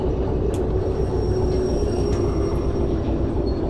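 A train in the railway simulator game Derail Valley rolls and slows under gentle braking, giving a loud, steady low rumble with a faint sustained metallic whine and a few light clanks above it.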